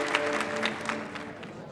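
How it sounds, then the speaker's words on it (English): Audience applause at a live storytelling show in Los Angeles, a steady wash of clapping across the whole stretch with a few sharper claps standing out. "Give them all a big round of applause."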